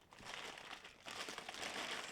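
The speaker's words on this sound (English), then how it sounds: "There's still some paper in here." Wrapping paper crinkles and crumples continuously while a parcel is unboxed, a soft, close, rustling texture with no talk.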